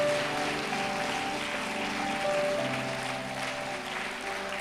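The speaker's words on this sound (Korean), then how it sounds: "큰 박수 올려드리십시오" A church congregation applauds warmly at a cross conference lecture, a broad, even wash of clapping that holds for several seconds at moderate distance, with faint tones underneath.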